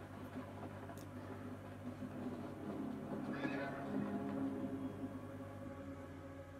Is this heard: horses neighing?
yes